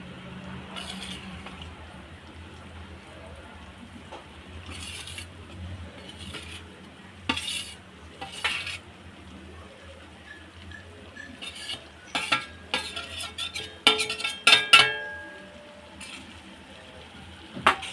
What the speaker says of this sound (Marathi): तर आता हे मध्यम आचेवरती मस्त असं खमंग पीठ भाजून घ्यायचं